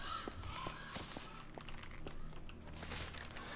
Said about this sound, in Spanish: ¿Por qué hay cuervos aquí dentro?